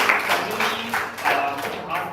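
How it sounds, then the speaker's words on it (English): An audience at an employee speech competition gives a round of applause, loose clapping swelling and fading in uneven bursts, with voices mixed in under the claps. "Let's give her a big round of applause."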